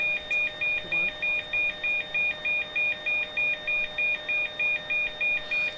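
Repeating electronic warning beep from a Boeing Business Jet cockpit in a flight simulator, signalling that ground power is needed for the inertial reference systems; a steady, evenly spaced two-tone alert pulses about three times a second throughout, with no talk.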